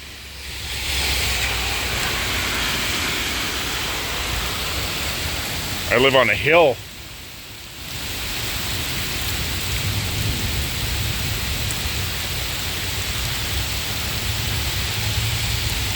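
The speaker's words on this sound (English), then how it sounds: "We are getting some rain, people." Steady heavy rain pours down during a first big downpour after a long dry spell on a hill, a constant broadband wash that briefly drops out while a person speaks a short line midway.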